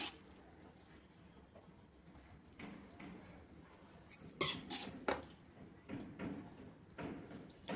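Masala Maggi noodles are served from a pan onto a plate: a few scattered metal clinks and scrapes of a utensil against cookware and dishes, moderately close, over a soft background.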